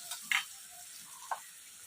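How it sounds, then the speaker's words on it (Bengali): Tomato frying with onions and cardamom in a pan, a faint continuous sizzle broken by two quick spatula scrapes, close by and with no talking. "এবার টমেটো দিয়ে দেবো।"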